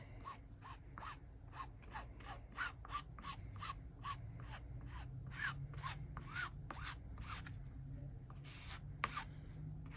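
Rapid, repeated scraping strokes of a card rasp back and forth over cotton fabric, removing excess OdiCoat coating at a steady rhythm, close and fairly quiet, over a low background hum.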